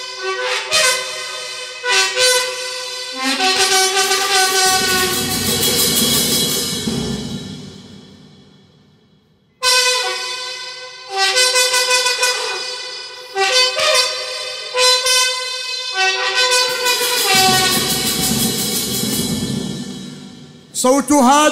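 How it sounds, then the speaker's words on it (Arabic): Long sustained horn blasts, loud and brassy, sounding in two extended phrases with a short break between them. "صوت هذا البوق كان في كربلاء"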